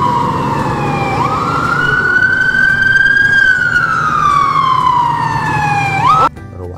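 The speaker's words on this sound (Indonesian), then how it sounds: "di sini ternyata ada mobil truk tangga pemadam kebakaran" Toy fire ladder truck siren, a loud electronic wail that slowly rises and falls in pitch for about six seconds before cutting off abruptly, heard close and alone.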